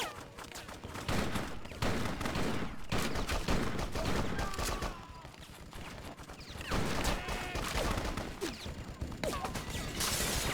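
Gunfire in the 2002 PlayStation 2 game Bloodrayne, dense bursts of rapid shots crackling almost without pause, mixed with game noise and loud throughout.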